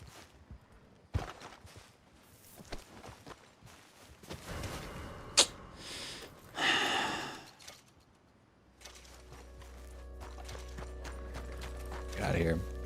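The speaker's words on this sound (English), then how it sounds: "There goes the horse." In a Wild West video game, a horse runs off with clip-clopping hooves and clattering mechanical sounds, then a steady low hum and a faint whinny follow, with voices talking over part of it.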